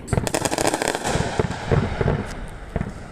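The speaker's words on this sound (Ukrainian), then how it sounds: "звуки відчайдушних пострілів" A fast flurry of sharp cracking bangs, like gunfire or firecrackers, rattles off at a distance in dense, irregular bursts.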